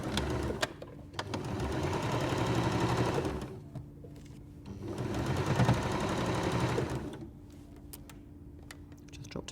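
A sewing machine stitches a quilt block seam in two sustained bursts of rapid, even needle chatter separated by a short pause, with soft clicks and handling noises at the start and end.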